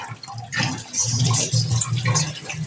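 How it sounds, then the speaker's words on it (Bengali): An iron pan, a kadai, is scrubbed with a Scotch-Brite pad under running water: a close, steady gush of water with rough scrubbing mixed in. "এই যে স্কচ ব্রাইটটা দিয়ে সুন্দর করে ধুয়ে নিচ্ছি"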